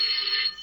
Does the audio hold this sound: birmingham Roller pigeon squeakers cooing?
no